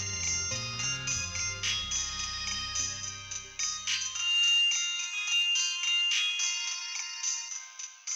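A mobile phone ringtone plays as a melodic electronic tune, close and fairly loud, with a low backing that drops out partway while the higher melody keeps ringing for an incoming call in an Odia TV serial scene.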